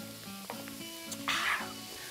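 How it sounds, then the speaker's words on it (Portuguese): Meat on a barbecue grill at a festa junina gives a short, faint sizzle that swells into a brief hissing burst before fading, alone without talk. "Fazer aquele chiadão bonito."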